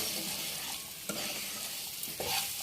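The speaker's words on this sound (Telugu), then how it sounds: "బాగా కలపాలి." Paneer biryani mixture is stirred in a hot pan, a steady close sizzle with soft scraping strokes and a couple of light knocks from the spoon, no talking.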